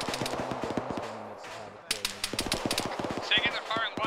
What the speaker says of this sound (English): They're firing through the smoke.